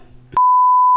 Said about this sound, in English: Why did it beep?